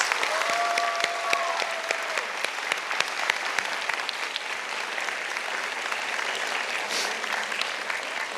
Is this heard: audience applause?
yes